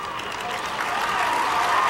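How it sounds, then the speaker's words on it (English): Marion fans clapping in the stands at a 1990 Class DD high school football final, a steady crowd patter of hands growing slightly louder, heard from a distance with faint murmur. "Well, Marion is clapping their hands."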